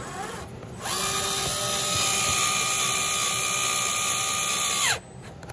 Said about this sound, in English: sometimes I like to use a screwdriver, so that way it won't get over tightened.